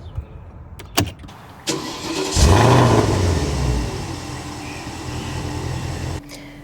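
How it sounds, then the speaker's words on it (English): A Porsche Cayenne S, a 2014 model, cranks and fires up after a few clicks, the engine catching with a loud rising flare and then settling into a steady idle before cutting off. "we're gonna turn on the ignition"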